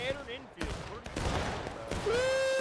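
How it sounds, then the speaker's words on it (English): Buck and ball musket fire erupts right beside the player in the Smoke and Steel game: a few sharp, loud, close bursts spaced apart, with rising whistle-like tones at the end. "Somebody's shooting bucket balls directly next to your head"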